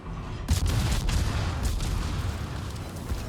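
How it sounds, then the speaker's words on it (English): Naval gunfire in a warship video game: a sudden heavy boom opens the short stretch, followed by a dense rumbling barrage of distant shots and blasts that continues unbroken. "There's somebody over there shooting out of there."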